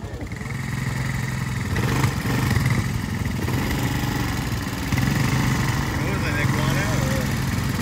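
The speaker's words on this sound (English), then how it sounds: "We've just boarded our ATVs." ATV engines idle and rumble steadily up close at the start of a jungle ride, with voices talking over the running motors.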